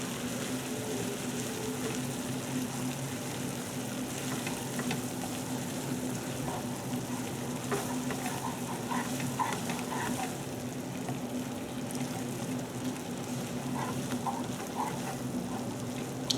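Oyster thermidor sauce cooks in a pan over medium heat, a continuous dense sizzle and bubbling with faint scraping of stirring, steady and close throughout.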